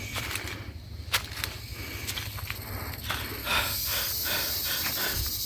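Heavy, rapid panting breaths after climbing the long stairway to a hilltop temple, close to the microphone over steady wind-like noise.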